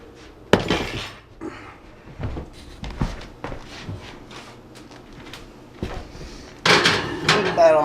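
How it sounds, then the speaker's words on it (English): An iron skillet of cookie dough going into a 350-degree oven: a sharp clank, then scattered knocks and rattles of the oven door and rack, with a louder metallic burst near the end and a person talking quietly. "Now we're going to put it in the oven."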